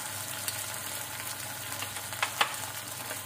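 Potatoes and onions fry together in a pan with salt, making a steady, moderate sizzle throughout, with a couple of brief stirring scrapes near the end.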